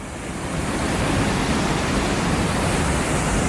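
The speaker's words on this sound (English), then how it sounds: "Good amount of water coming through there." Heavy water rushing through a hydroelectric plant beside a decent-sized lake in Michigan, a loud, steady broadband roar that swells slightly at the start and then holds constant, with no voices.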